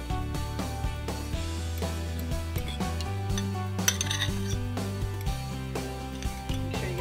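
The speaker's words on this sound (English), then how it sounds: "we're doing some butter and whipping it in some sugar" Butter and sugar are whipped together in a kitchen bowl, with a whisk clinking and rattling repeatedly against the bowl under steady background music.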